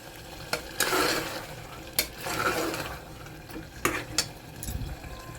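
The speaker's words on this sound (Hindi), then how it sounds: "तो यहाँ पर हम भून रहे हैं तेज़ आंच पर।" Mutton keema fries on high heat in a pan, sizzling steadily while a utensil stirs and scrapes it, with several sharp clinks of metal against the pan in between.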